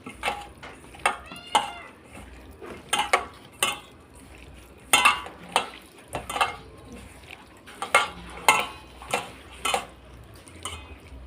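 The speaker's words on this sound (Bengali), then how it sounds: "মাখিয়ে নিচ্ছি মাছটা" Fish being rubbed by hand with salt and turmeric, a run of sharp, irregular wet slaps and squelches against a dish, close by and without speech.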